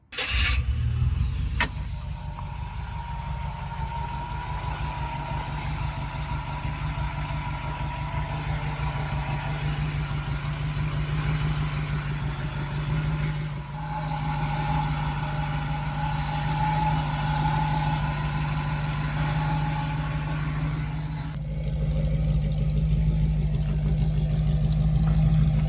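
A 1931 Ford hot rod pickup engine turns over and settles into a steady, throaty idle, running close and loud for a long stretch with a brief dip midway.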